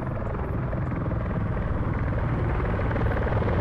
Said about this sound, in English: there's two friendly big helis coming in